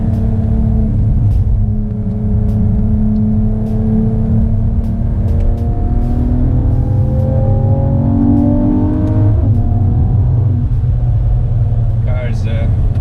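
A 2019 Mercedes-AMG E53 coupe lapping a race track, its engine a steady loud drone that rises in pitch as it accelerates, with a voice talking over it throughout.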